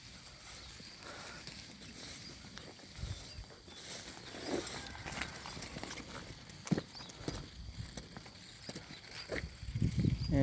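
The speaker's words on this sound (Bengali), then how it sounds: "এই গরু নিয়ে যাইতেছি" Cow hooves clop unevenly on hard ground as the cattle walk past, with scattered knocks and rustling around them.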